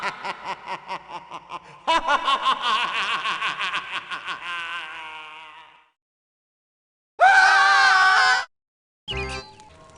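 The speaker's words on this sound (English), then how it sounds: "And that's when Harriet let out a shriek when she saw it lifting up" A frightened girl in a 1996 animated word-adventure cartoon story, with a burst of cartoon laughter and snickering early, then a sustained high, loud shriek later, followed by a short sharp sound.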